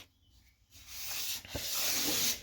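Sanding on the rear door of a Nissan Pathfinder during paint prep, a steady abrasive rubbing hiss that starts after a quiet second and carries on continuously for about two seconds.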